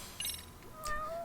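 A cat meows in the video game Lost Judgment, a couple of faint rising mews over quiet game background ambience.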